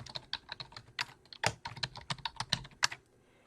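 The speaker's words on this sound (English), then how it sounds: "type in my host name and click Open" Rapid keystrokes on a computer keyboard, a quick irregular run of crisp close clicks and taps lasting a few seconds before falling quiet.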